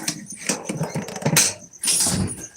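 A puppy barks and growls in rough, noisy bursts up close, with a harsh, breathy growl between sharper yelps and no talking.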